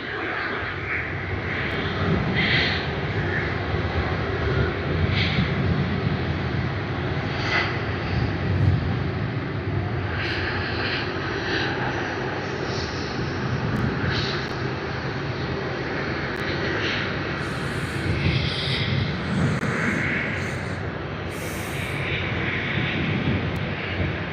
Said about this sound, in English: we do see Garuda Indonesia. It's going to be nice to capture this takeoff as well.